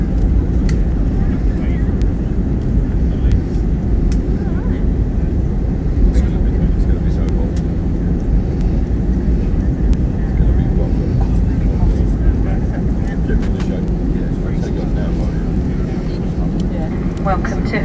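Airliner landing at Heraklion airport on Crete, a loud continuous engine roar and cabin rumble heard from inside the plane, with people talking underneath.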